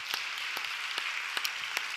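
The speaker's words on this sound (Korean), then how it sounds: "우리 수고하고 애쓴 분들 다 박수해 주시고요" A church congregation at a late-night Friday prayer meeting applauds testimony speakers with soft, distant, diffuse clapping and occasional sharper claps standing out.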